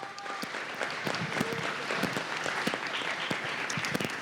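Audience applause at a Spanish-language interview event, a steady wash of many hands clapping, dense and fairly loud throughout with no pauses.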